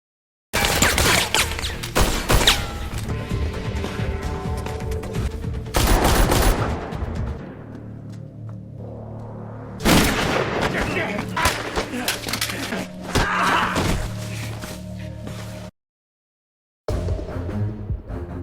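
Bursts of gunfire in a Korean action movie scene, with loud rapid volleys and single shots breaking through tense dramatic music, pausing briefly and then resuming.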